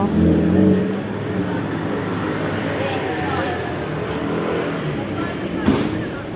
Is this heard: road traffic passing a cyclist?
yes